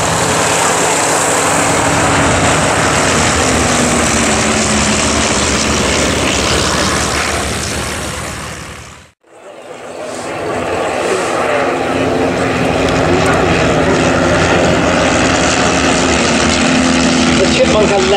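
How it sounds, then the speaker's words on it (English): A de Havilland Canada Chipmunk trainer aircraft at the Little Gransden air show makes a loud, steady propeller engine drone that briefly cuts out midway, then resumes, with crowd and announcer sounds mixed in. "The Chipmunk, a legendary trainer designed by de Havilland, Canada"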